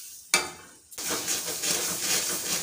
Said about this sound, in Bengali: কিছুক্ষণ এভাবে ভালো করে নাড়াচাড়া করে আমটা একটু জাল করে নেব।